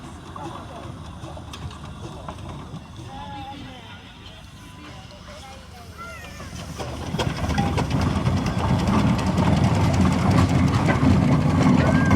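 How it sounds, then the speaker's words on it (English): A heavy steam traction engine rumbles closer under scattered outdoor chatter at a steam show, its low chugging noise swelling louder and steadier through the second half. "the second engine coming in"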